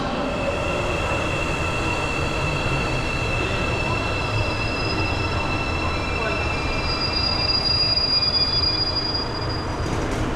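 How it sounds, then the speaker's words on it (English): An express train bound for Seoul Station rumbling in, with high metallic wheel squeals ringing over a constant loud roar, steady throughout. "The express train bound for Seoul Station is now approaching."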